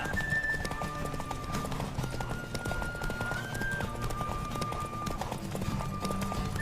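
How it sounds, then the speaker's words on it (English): A horse gallops in a video game, with rapid, steady hoof clip-clops close up over a low rumble of movement and faint tonal music in the background. "Don't spare the horse!"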